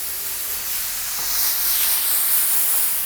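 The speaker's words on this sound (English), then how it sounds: "let's go ahead and spray this a little bit slower" Activator sprayed slowly onto hydrographic film floating on water, a steady close aerosol hiss that swells slightly louder midway and carries on without a break, no voices.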